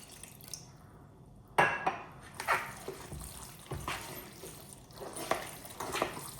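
Cold water from the fridge is poured into a ground beef mixture for Armenian lahmajoun, with wet splashes and sloshing bursts near the mic, falling into irregular squelching pulses as the meat mixture is worked.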